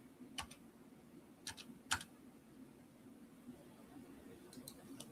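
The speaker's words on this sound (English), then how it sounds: "I'm just not typing very good today" Someone types on a computer keyboard in a few quick, faint bursts of clicks separated by pauses, over a low steady room hum with no speech.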